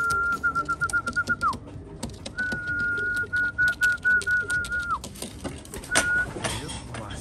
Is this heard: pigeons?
yes